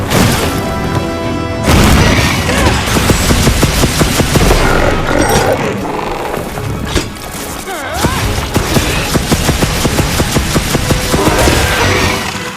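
Gun lance blasts from Monster Hunter Wilds, with repeated booming shots and crashing impacts, arrive loud and dense over game music and effects for the whole stretch, with no talking.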